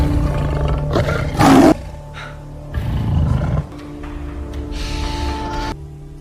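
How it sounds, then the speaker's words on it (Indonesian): A hungry lion roars in a film, with two heavy roars: a sharp loud burst early on, then a lower rumbling growl a moment later, followed by quieter rustling and breathy background sound. "disusul dengan aungan singa yang kelaparan"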